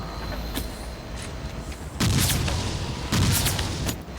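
Bolt shot traps fire in the video game Meet Your Maker, two heavy booming blasts about a second apart, loud and close over a continuous rumbling game background.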